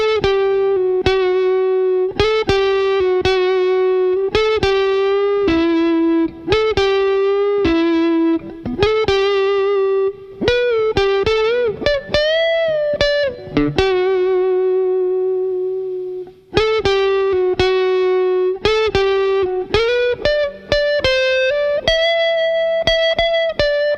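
An electric guitar played through reverb for an 80s sound, loud and alone: clean sustained notes and short phrases ring out with lingering tails, including a bent note that fades away before the playing resumes.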